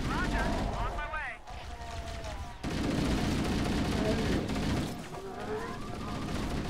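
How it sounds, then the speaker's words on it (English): Halo co-op firefight with bursts of rifle and plasma fire, explosions and chirping alien weapons, loud and chaotic, under intermittent game voices. "You just start shooting in random directions because there's too many enemies"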